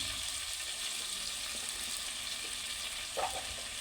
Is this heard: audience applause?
no